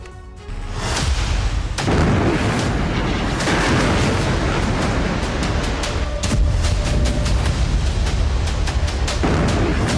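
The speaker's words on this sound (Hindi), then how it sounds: "विस्फोटकों से भरी कार ने गैस स्टेशन में तबाही मचाई" Explosions and heavy blasts from a car bomb attack at a gas station, a dense, loud rumbling roar broken by repeated sharp bangs and cracks throughout.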